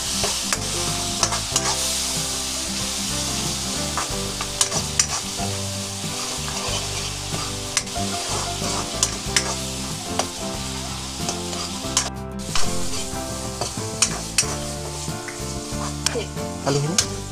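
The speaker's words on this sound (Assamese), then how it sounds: "আদা নহৰু পেষ্টখিনি দি দিলোঁ ইয়াতে। এতিয়া অলপ সময় ভালকৈ ভাজিম।" Ginger garlic paste sizzles in hot oil in a pan while being stirred for a desi-style pork curry, with a steady close frying hiss, repeated scraping and clinking strokes of the spatula, and a brief louder clatter near the end.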